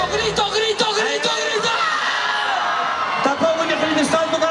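A large crowd at a live 2015 orchestra concert in Caldas shouts and whoops loudly and continuously, with a strong, close voice rising above the din.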